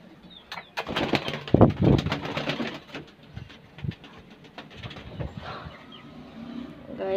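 Pigeons coo in short, soft bursts close by, with flapping and scuffling noises mixed in, while a person talks briefly now and then.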